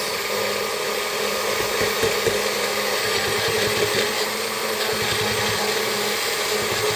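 A blender churns a spinach smoothie with a steady, loud whirring motor drone that holds constant, with no talking.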